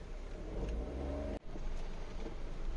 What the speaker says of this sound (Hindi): ये जो गाड़ी आ रही ना राइट से इसको देखो कितने पानी में से निकल के आई